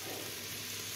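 Sliced onion frying in a pan gives a steady, dense sizzle throughout, close and fairly quiet, with no voices over it.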